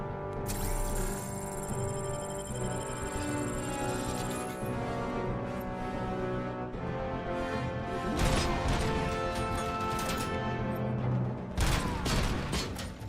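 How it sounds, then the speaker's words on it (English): Heavy machine gun fire in the Robocop: Rogue City video game, dense sustained bursts with crashing impacts over a continuous mechanical game soundscape, loud and close. "he's got the heavy machine gun"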